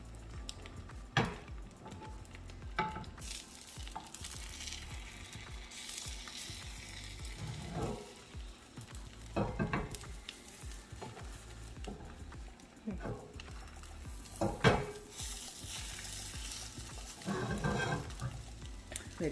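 Food sizzling and frying in a non-stick Always Pan misted with a few sprays of oil, a steady soft crackle with occasional scrapes and clicks of a spatula, moderately quiet throughout.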